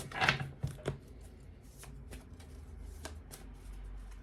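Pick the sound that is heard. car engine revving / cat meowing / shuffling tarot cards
shuffling tarot cards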